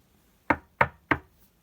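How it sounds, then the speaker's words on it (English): Three sharp knocks on a door, evenly spaced and close, ringing out against near silence. "Alice went timidly to the door and knocked."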